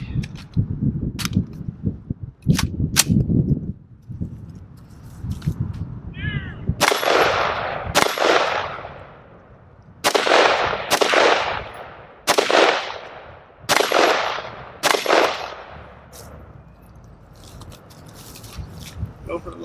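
Geissele URGI MK16 10.3-inch rifle firing its first shots outdoors, a string of sharp, loud, evenly spaced reports with echoing tails, preceded by several quieter shots and background noise.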